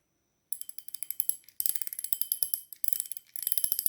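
Rapid mechanical clicking from a fishing reel, bursts of fast ratcheting ticks with short pauses between, close and crisp.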